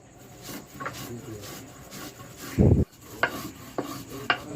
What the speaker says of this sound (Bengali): মশলাগুলো আমি জল ছাড়াই শিলপাটায় গুঁড়ো করে নিচ্ছি